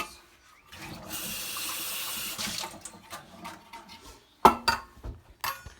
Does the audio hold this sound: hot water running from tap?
yes